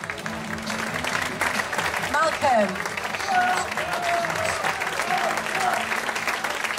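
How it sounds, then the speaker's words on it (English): Sustained applause from a crowd at a fan night awards presentation fills the space while someone speaks over the clapping. "Round of applause, please."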